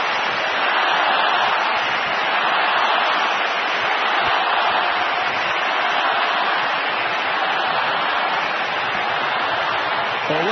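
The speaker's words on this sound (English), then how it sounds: "Now the cheer for Rafa." Stadium crowd at the 2019 US Open tennis final cheering for Rafael Nadal, a steady, dense roar of voices lasting throughout without breaks.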